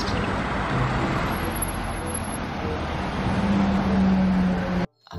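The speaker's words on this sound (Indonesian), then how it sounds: "Lihat di sini ada bus tingkat." A double-decker bus drives along, heard as a steady, broad rumble of road noise with a faint high whine. It carries on evenly before stopping suddenly near the end.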